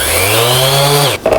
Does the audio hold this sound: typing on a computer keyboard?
no